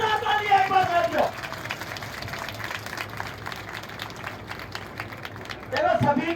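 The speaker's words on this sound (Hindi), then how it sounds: "उनके लिए भी जोरदार तालियां एक बार साथियों" An audience at a speech gives a long stretch of steady clapping that fills the room at moderate distance, with a voice speaking briefly at the start and again near the end.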